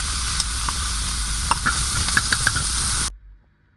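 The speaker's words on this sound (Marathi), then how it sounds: "लसूण आणि मिरच्या भाजून घेऊ आधी हवा गरम झाल्यावरती" Garlic and green chillies roasting in a hot pan give a steady, loud frying sizzle with scattered crackles and stirring scrapes, cutting off abruptly near the end.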